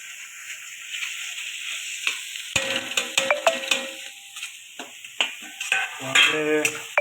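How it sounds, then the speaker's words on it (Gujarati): Bottle gourd (dudhi) roasts for halwa in a pan, a steady soft sizzle under irregular metallic scrapes and clinks of a spoon stirring against the pan, close and fairly loud, with no talking. "બીજી બાજુ હલવો થાય છે અને દૂધી એકદમ મસ્ત શેકાય છે"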